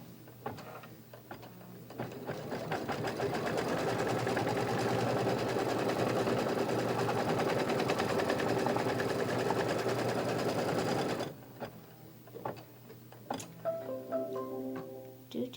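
Sewing machine stitching a placement stitch while quilting a Prairie block: a steady, rapid mechanical clatter runs for about nine seconds, then stops abruptly, followed by a few lighter clicks and short tones from the machine.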